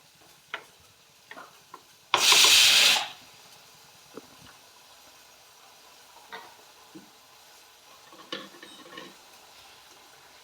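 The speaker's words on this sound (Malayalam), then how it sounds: "നമുക്കൊന്ന് ഇടയ്ക്കൊന്ന് ഇളക്കി കൊടുക്കാം" Bitter gourd curry with tamarind stirred in a pan: scattered light taps and scrapes of the spoon, broken by one loud sizzling burst lasting under a second, then quiet stirring clicks.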